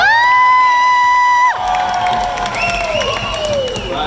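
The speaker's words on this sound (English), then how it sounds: "Make some noise for Haixiang!" A theme park stadium audience at a live stunt show in Universal Studios Orlando cheers loudly with sustained whoops and shouts, ringing voices and rising cries filling the space up close.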